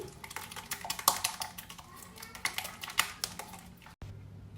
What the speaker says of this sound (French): Donc moi je mélange à l'aide de ma cuillère magique, que j'aime beaucoup.